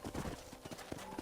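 Horse hooves clip-clop in Red Dead Redemption, a quick, uneven run of soft hoof strikes at moderate distance, faint and brief.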